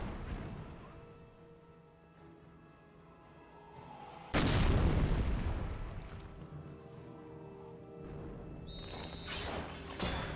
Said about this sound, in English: Mortar now firing away.